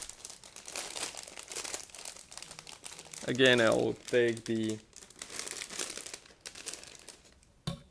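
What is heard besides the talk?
plastic bag crinkling open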